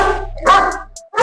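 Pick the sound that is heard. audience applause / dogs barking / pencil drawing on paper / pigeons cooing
dogs barking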